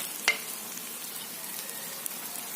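Spaghetti sauce cooking for a feeding program simmers in a pot with a soft, continuous sizzle and a couple of light clicks.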